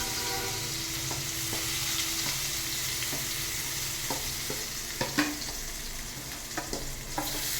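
Food frying in a pan while being stirred and mixed in a home kitchen, a constant sizzle with repeated scraping strokes of a spoon, some sharper clinks near the end, and a faint tonal hum underneath.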